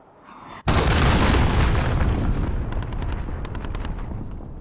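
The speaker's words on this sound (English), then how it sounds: "Allied cruise missile on the way" A cruise missile strike in the Call of Duty: Modern Warfare video game lands as one sudden, loud boom, then a long rumbling roar that slowly thins out, with faint crackling pops scattered through the tail.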